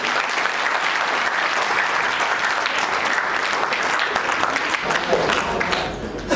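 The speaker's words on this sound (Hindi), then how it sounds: "बड़ी ताली ऊंचे स्वर में बजाओगे।" Loud, sustained applause from a large audience at a public talk, dense clapping holding steady for several seconds before thinning slightly at the end.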